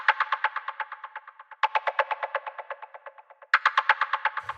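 Rapid, pulsing band-pass filtered deep minimal house percussive hits in three bursts, each a quick train of nasal, midrange clicks that fade slightly before the next burst starts.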